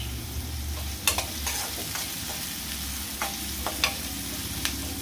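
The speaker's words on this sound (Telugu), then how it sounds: "బాగా కలిపేసుకొని మూత పెట్టుకుందాం." Onions with salt stirred in a pan as they cook, a steady soft sizzle broken by several sharp clacks and scrapes of the spoon against the pan, no talk.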